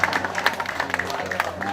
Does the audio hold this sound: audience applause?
yes